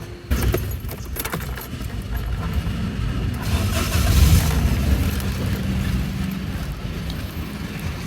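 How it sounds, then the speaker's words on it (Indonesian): A 2015 Toyota Agya TRD Sportivo with manual transmission starts up, the engine catching after a brief crank and settling into a steady, close low rumble with some jangling keys, no talking. "Coba kita nyalakan mesinnya."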